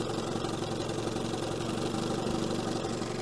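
A 1970 Evinrude 25 HP outboard motor idles in gear after a tune-up and condenser change, running rough and close to stalling as a steady, even low rumble that stays unbroken and alone throughout.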